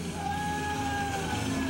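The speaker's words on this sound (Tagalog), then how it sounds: "Ayun, sumigaw na." A person shouts a long, sustained yell over steady background noise, loud and continuous for the whole moment.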